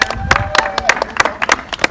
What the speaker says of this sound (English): I think we should give Christine a round of applause